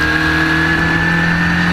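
Historic Formula Ford 2000 race cars at Brands Hatch GP circuit, a loud, sustained engine note with a steady high whine as the cars pass close by, heard without talk.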